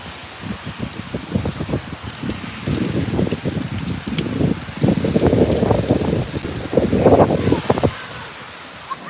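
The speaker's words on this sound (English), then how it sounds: "I don't really mind the rain as I'm prepared for it." Rain falls on a Brooklyn street in Bay Ridge during a summer walk, a patchy, crackling patter that swells and fades in uneven bursts, fairly close and without talk.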